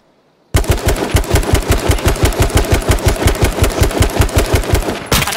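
Loud, close rapid-fire gunfire in the game H1Z1, a steady automatic burst of about two dozen evenly spaced shots that starts abruptly after a brief silence and runs nearly to the end.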